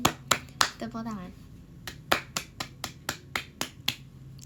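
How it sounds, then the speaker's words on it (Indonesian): Sharp hand claps or finger snaps ring out in an irregular series of about a dozen crisp, close hits, with a brief voice heard early on. "Tepuk tangan"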